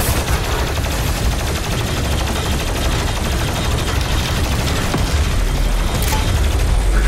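Rapid gunfire in Doom Eternal combat, loud and relentless, a dense stream of shots with mechanical clatter layered over heavy game action, no voices over it.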